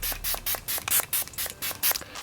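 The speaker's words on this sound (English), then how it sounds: "I'm gonna spray my setting spray." Makeup setting spray is misted onto the face in about ten quick hissing bursts, one after another at a steady rhythm, close and soft, with no talk.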